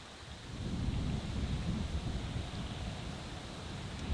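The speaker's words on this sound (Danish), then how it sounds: "Men det er ikke nemt, når det blæser sådan her." Strong wind blows across an open fishing spot by the water, a continuous low rumbling roar buffeting the microphone, swelling after the first half second and staying steady.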